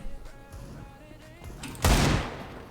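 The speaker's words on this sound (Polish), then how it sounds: "Się przestraszyłem swoim strzałem" A Desert Eagle pistol fires once in Counter-Strike, a sharp loud bang with a quick decaying tail, following quieter game ambience and faint footsteps.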